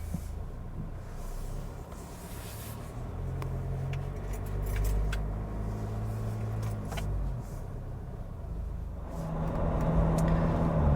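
A 2022 Ford Ranger Wildtrak with the 2.2 engine pulls away, its steady, moderately loud low engine drone and road rumble rising as it gets up to speed, heard from inside the cab with no talking.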